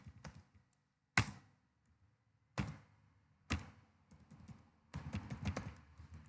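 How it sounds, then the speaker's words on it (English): Someone types a username on a computer keyboard: a few quiet, separate keystrokes spaced out over several seconds, then a short cluster of faster taps near the end, close and soft in a quiet room. "now you need to click on the accept and type the username"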